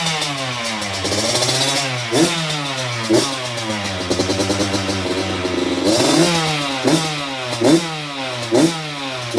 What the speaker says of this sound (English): that's what it sounds like with the stock system